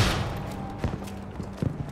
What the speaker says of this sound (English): I'm gonna sit in a gun that's designed to shoot planes and shoot people.